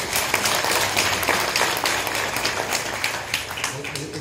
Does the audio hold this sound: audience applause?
yes